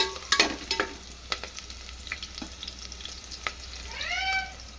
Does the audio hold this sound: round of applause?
no